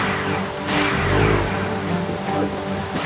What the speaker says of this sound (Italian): Oh no! Sta arrivando il temporale!